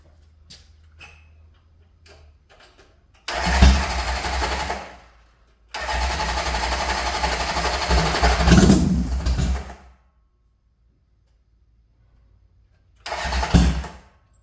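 A Honda CB750 chopper's electric starter cranks in two long, loud, steady bursts with a gap between them, then a short third burst after a pause, heard up close with no talking.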